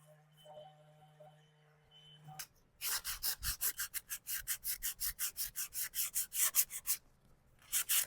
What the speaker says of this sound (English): I'm just sanding all like the big bumps that happen when you do that type of paint